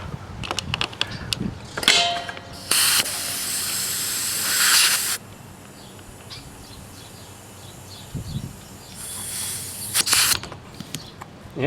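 Compressed air hisses into a tire on a 1970 Honda CT70 minibike in two or three loud bursts, the longest lasting a few seconds, with quieter clatter and handling noise in between.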